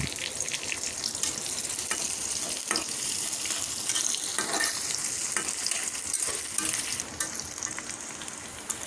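Onion, fenugreek seeds, whole cumin and dried chili fry in hot oil in a pan ahead of cooking meat, a loud steady sizzle with scraping stirs throughout.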